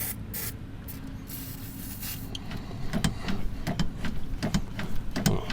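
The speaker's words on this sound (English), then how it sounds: "Put some WD-40 on it" WD-40 hisses from a spray can onto a seized heim joint on a John Deere, a steady close spray followed by some rubbing and clicking as the joint is worked.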